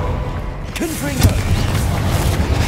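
Confringo fire spell blast in Hogwarts Legacy: a short whooshing cast with a brief voiced cry, then a sharp loud boom and rumbling thuds close by.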